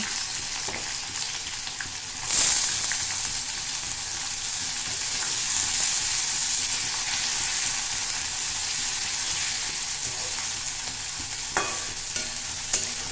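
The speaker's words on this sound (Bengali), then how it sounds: "পেঁয়াজগুলো একটু লাল লাল করে ভেজে নেব।" Onions sizzle steadily as they fry in a pan for chicken curry, with a constant close hiss and occasional stirring scrapes and clicks, with no voices.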